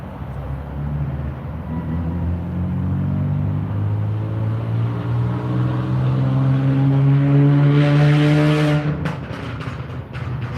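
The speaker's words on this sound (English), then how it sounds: "That's why your car's backfiring like that." A misfiring car engine drones and revs upward, then a quick cluster of sharp popping backfire bangs breaks through near the end.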